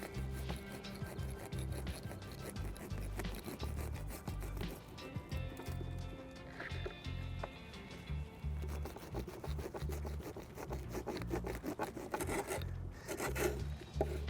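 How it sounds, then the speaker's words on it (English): A pruning saw cuts through the edges of a plant's root ball, a steady, close rasping of repeated back-and-forth strokes running continuously with no talk. "You get a pruning saw and you basically square off the root ball by making some slices through it"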